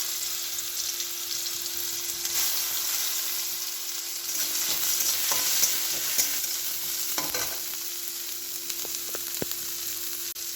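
Garlic fries in hot oil with cardamom pods and a bay leaf for a fish curry, giving a continuous soft sizzle. Occasional scraping knocks from stirring break through the sizzle.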